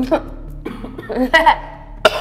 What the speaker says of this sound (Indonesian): Om lagi batuk.